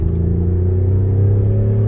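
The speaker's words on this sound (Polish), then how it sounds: "Diesel tu lubi się napędzić" A Range Rover Sport D350 with a 3.0 straight-six diesel gives off a steady, deep engine rumble, loud and close, holding an even tone through the short stretch with no voices.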